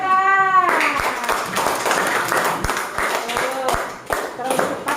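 A child reading aloud in class stops and a few sharp, scattered hand claps follow, close and uneven, after a brief drawn-out vocal sound at the start.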